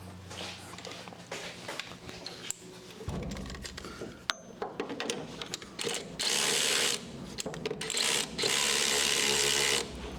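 Ratchet turning on bolts while removing the intake pipe of a Datsun car, with quick clicking bursts and mechanical rattles, some loud sustained grinding spells, and close, busy handling noise.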